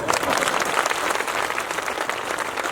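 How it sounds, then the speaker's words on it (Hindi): A crowd of listeners applauds at a comic poetry gathering in Shivrinarayan, steady dense clapping that holds at a fairly loud, even level throughout with no break. "इसमें ताली बजाने वाली कोई बात नहीं थी।"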